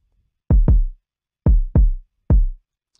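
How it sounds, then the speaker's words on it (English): A deep electronic kick drum in Ableton Live thumps five times in an uneven pattern, two quick pairs then a single hit, punchy and close with silence between. "our kick drum pattern sounds like this"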